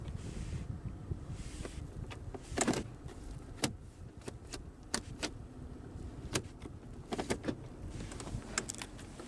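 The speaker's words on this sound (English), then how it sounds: "when you put it in reverse, as you can see, the side view mirror does tilt down to give you a better view" Side view mirror motor on a 2007 Cadillac STS V8 tilting the mirror down when shifted into reverse, a faint whir under scattered clicks and light handling noises inside the car.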